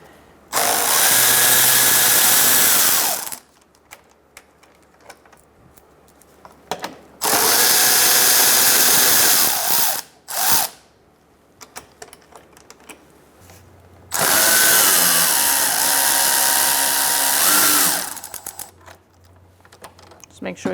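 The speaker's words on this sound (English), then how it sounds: "we're going to use a 10mm socket to remove these two bolts" A power drill or impact driver with a 10mm socket runs in three sustained whirring bursts, removing bolts on a 2004-2009 Mazda 3, loud and close, with brief clicks between the bursts.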